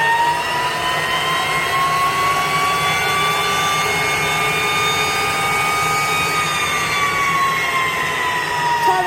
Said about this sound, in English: Turbine spinning.